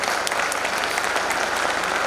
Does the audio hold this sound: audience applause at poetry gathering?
yes